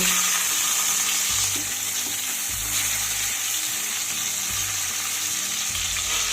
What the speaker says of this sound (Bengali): মাছগুলোকে উল্টে পাল্টে লাল করে ভেজে নিতে হবে